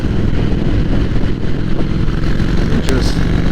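A 2002 Yamaha Warrior motorcycle cruising in fifth gear at highway speed and low revs, a steady, loud, rumbling engine drone with wind noise throughout.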